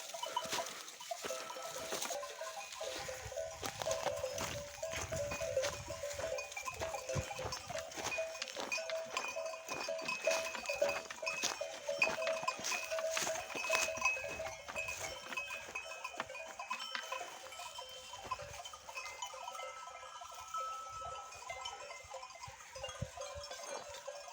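A flock of sheep grazes in the mountains, scattered bleats rising faintly over a steady outdoor rustle, distant and continuous for a long stretch, with no one talking.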